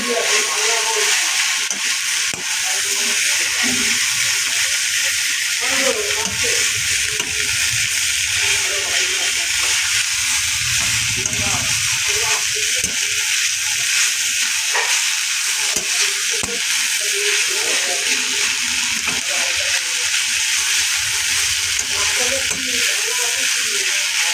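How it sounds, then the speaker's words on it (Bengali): Fried kharkol greens are stirred in a covered pan, a continuous close sizzle and hiss with soft scraping of the spatula throughout, steady and unbroken. "শাক ভাজাগুলোকে নেড়ে চেড়ে নিচ্ছি।"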